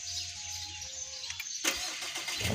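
An automatic pickup truck's engine is started: a quiet electrical whine and hum, then a sudden burst as the engine turns over and settles into a broad running noise, heard close up and with no talking.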